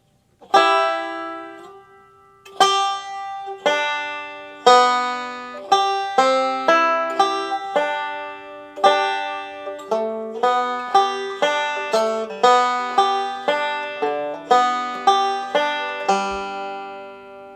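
Plucked banjo picking of "Cripple Creek" in a steady, bright roll of quick alternating-thumb notes, played alone and close, with short pauses between phrases.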